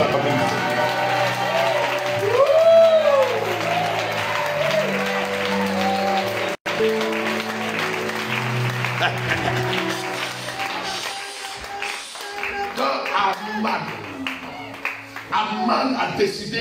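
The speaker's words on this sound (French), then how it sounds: "Est-ce qu'on peut acclamer?" A church congregation at an evening worship gathering applauds and cheers. Sustained loud clapping fills the hall for most of the stretch and then thins out toward the end, with voices calling over it.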